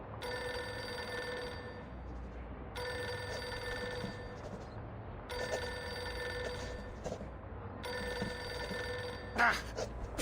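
A telephone bell rings in repeated long bursts with short pauses between them, about four rings in all, steady and fairly loud with no one answering.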